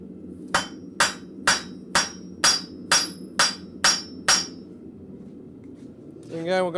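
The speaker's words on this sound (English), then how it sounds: "As we're hitting this, we're actually going to be rotating the pin." A blacksmith hammers a metal cloak pin at the forge: nine sharp ringing hammer blows at an even pace, close and loud, followed by a short pause and then a voice speaking.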